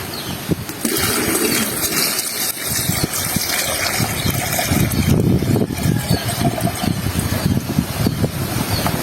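Water pours and gushes continuously, loud and close, with a broad rushing splash that swells toward the end.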